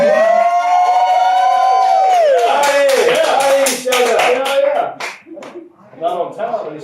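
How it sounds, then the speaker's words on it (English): A loud, close round of clapping in brisk bursts that follows a wailing siren-like tone, then tapers off into scattered sounds. "Round of applause for me showing up to work today."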